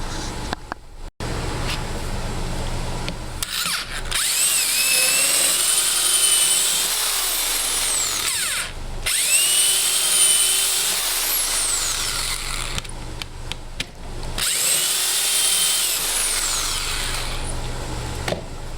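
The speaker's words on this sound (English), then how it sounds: "now I've got those drilled and set into place" A power drill bores holes for a roll bar, running loud and close in long steady bursts with a whining high pitch and brief pauses between them; no talking.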